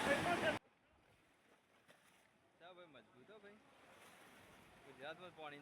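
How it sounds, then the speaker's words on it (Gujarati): Sea waves surge at Gomti Ghat in Dwarka, opening with a loud, close rush of surf that cuts off abruptly, followed by faint background wash under people talking. "જોઈ ખાલી કેટલા મોજા ઉતરે છે"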